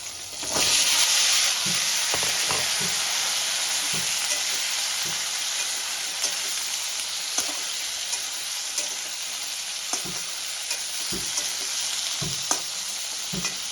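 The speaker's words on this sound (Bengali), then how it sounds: "আমি কেটে রাখা আগে থেকেই ডাঁটা আর আলুটা দিয়ে দেবো। একসঙ্গেই কষিয়ে নেব আমি।" Stalks and potatoes fry in a pan after a cumin tempering, giving a continuous loud sizzle with scattered soft clinks and scrapes of stirring throughout, close and with no talking.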